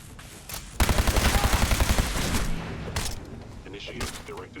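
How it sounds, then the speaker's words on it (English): Rapid gunfire in the video game Fallout 4 rings out in a fast, evenly spaced burst that then trails into scattered shots, with a voice talking at times. "Now, shoot back at the thing that's shooting at you"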